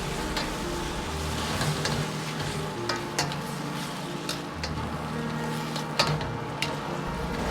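Tofu skin and bean sprouts are stir-fried in a hot wok with seasoned sauce, giving a steady close sizzle broken by repeated sharp scraping and clattering strokes of a spatula, with no talking.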